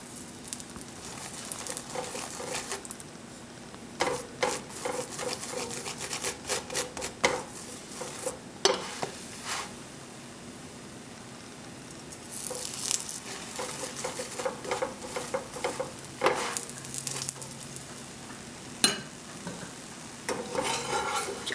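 A spinach paratha is flipped and oiled on a hot pan, giving a soft steady sizzle with scattered utensil scrapes and clicks against the pan, near and fairly quiet.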